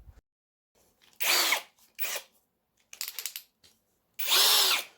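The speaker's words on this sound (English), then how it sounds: "So we can drill our hole, bang on centre, and it's not going to flail around." A hole saw with a pilot drill enlarging an existing hole runs in several short bursts, each a loud whining grind that starts and stops, separated by near-silence, up close.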